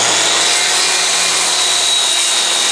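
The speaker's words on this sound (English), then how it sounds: "here it is, the old trusty Stanley handsaw." A Stanley handsaw cuts through wood in a steady, loud, rasping stroke that runs without a break, close up, with no voices.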